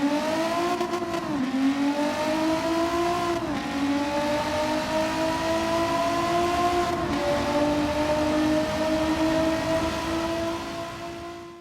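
Renault Clio V6 engine, about 440 horsepower, in the Gran Turismo 7 racing game, a loud sustained whine that climbs through the gears with brief dips at shifts, then holds high and fades at the end.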